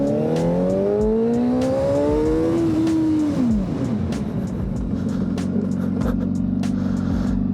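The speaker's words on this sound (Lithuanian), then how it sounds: "noriu tik parodyti, kaip greitai galima su motociklu sustabdyti" A motorcycle engine revs up hard with a rising whine on a cold road, then drops sharply as the rider brakes to a fast stop, settling into a steady idle.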